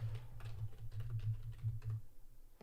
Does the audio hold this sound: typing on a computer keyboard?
yes